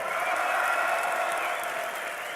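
A crowd at DreamHack Winter 2012, during a CLG.eu versus Copenhagen Wolves semifinal, applauds and cheers in a dense, steady roar for the whole moment.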